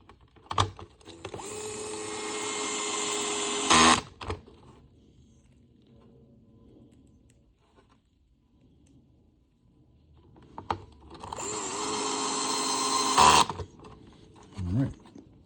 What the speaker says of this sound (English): you have to put these 2 screws on first before you put the clipless body assembly on